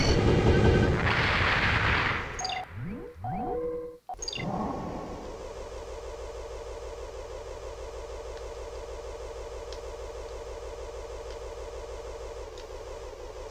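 Laser cannon shots in the Armored Core video game, heavy booming blasts up front followed by a sustained rumbling drone, with no talking.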